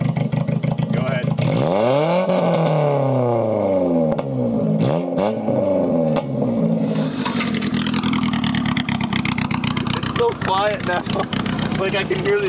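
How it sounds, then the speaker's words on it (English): A 1985 Toyota Tercel engine with a new exhaust starts and revs repeatedly, pitch sweeping up and down in several sharp bursts before settling into a rough idle, loud and close, with people talking over it. "Now, like, I can hear the exhaust leak a lot better."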